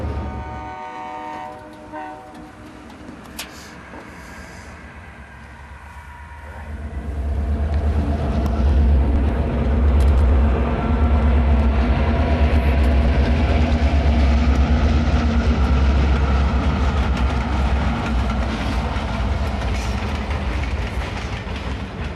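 A train horn sounds, then a heavy train rumbles past, its low roar and rattling wheels building and staying loud to the end.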